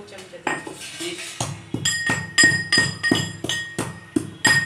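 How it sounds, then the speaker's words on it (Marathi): Whole nutmeg is pounded fine in a metal mortar, giving sharp, ringing metallic strikes in an uneven rhythm, close and loud, with faint background sounds between the blows. "तर आपण जायफळ कुटत आहोत बारीक"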